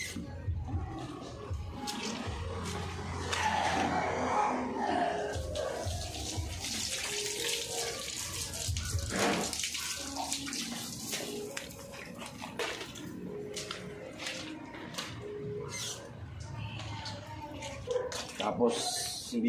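Tap water runs over a dropped item being rinsed at a sink, a steady splashing stream with clatter and handling noises, with a voice talking over it throughout.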